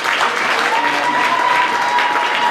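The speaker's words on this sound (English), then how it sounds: "give yourselves a round of applause for coming out and supporting the great event." A comedy benefit show audience claps in a sustained round of applause, dense and fairly close, with a voice briefly audible over the clapping.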